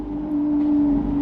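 Sports car engine at a Lamborghini Houston cars and coffee meet, heard as a loud, steady, close-up drone holding one pitch, without a clear rise into a rev.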